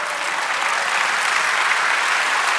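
A church congregation applauds during a sermon, a dense, even wash of clapping from many hands that holds steady for a few seconds with no talk over it.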